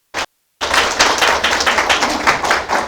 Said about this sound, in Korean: 다시 한번 뜨거운 박수 좀 부탁드리겠습니다